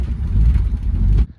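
A car engine rumbles loudly and steadily at close range while cars are being shifted around, then it cuts off abruptly into near silence.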